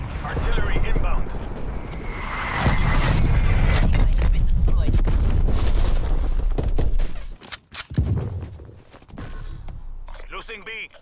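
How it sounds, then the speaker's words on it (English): Artillery strike explosions in the Call of Duty Cold War beta, a dense barrage of booming blasts and rapid gunfire that rolls on loudly for several seconds, briefly drops away, then resumes with a heavy rumble. "Hostile artillery targeting active. Artillery inbound."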